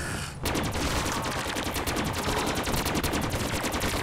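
Sustained rapid automatic gunfire in the Call of Duty zombies map Gorod Krovi, loud and dense, breaking out after a brief quiet moment and continuing without pause to the end.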